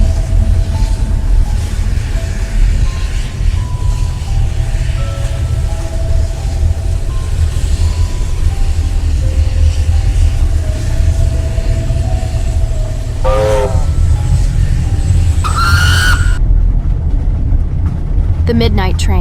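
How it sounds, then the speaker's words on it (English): A train roars past loudly as an audio drama sound effect, a dense rumbling wash of wheels and rail noise with a short horn-like blast near the end, continuous and close throughout. "A phantom train still roars through the Edson Hills"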